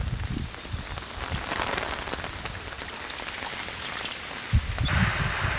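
Steady rain falls on surfaces outdoors during a downpour, a dense continuous patter with a few louder splashes and knocks near the end, no voices.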